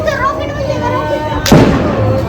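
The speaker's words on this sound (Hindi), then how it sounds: "पटाखे फेंको" Firecrackers go off at a Chhath Puja celebration in Bihar, with one sharp loud burst midway through amid a steady backdrop of crowd noise and voices.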